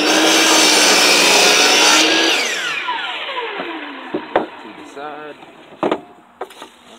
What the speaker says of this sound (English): Let's go ahead and cut that.